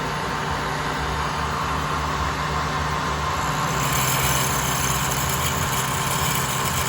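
A milling machine climb milling on a homemade rotary table, with a steady loud motor whine and cutting hum that shifts slightly partway through, running alone without talk.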